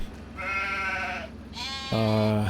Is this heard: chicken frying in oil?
no